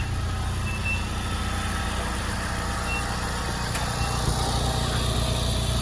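A minibus reverses with its engine running steadily and loud throughout, a broad rumbling drone with faint higher tones on top.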